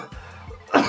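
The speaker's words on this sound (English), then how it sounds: "as soon as I started talking for the stream, the coughs have arisen" A single close, harsh cough burst near the end, preceded by faint throaty sounds.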